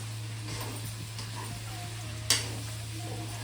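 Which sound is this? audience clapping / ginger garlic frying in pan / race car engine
ginger garlic frying in pan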